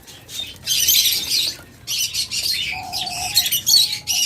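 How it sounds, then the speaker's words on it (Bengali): A dense chorus of diamond doves and other small birds chirping and squawking all at once, steady busy chatter from a crowded aviary at a bird seller's, with occasional wing flutters. "দেখুন অসংখ্য ডায়মন্ড ঘুঘু রয়েছে আমাদের কাছে"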